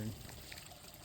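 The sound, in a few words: small stream flowing in the forest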